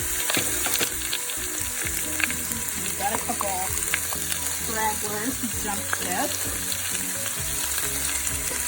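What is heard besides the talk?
vegetables sizzling in a pot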